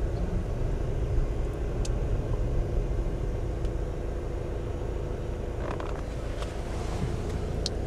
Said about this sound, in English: Teresa's driving a little quickly now.